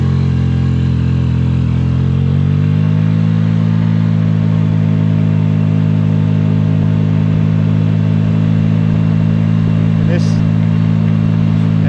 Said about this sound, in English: let's rev it up a little bit